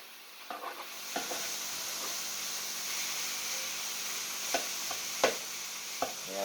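Thinly sliced meat sizzles steadily in a pot for a one-pot stir fry, a soft continuous hiss broken by a few sharp scrapes and clacks as the pieces are flipped with a utensil.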